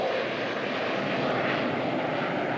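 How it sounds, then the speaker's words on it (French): Airplanes roar overhead in a broad, steady engine drone, loud and unbroken throughout, with no voices. "les avions font un bruit effrayant"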